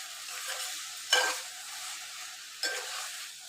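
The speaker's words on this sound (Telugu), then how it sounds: "నేను ఇట్లా ఒక 5 మినిట్స్ అయితే మంచిగా ఇట్లా ఫ్రై అయితే చేస్తున్నాను" Cauliflower and potato curry sizzles quietly in oil, with two short bursts of stirring noise over a steady low frying hiss.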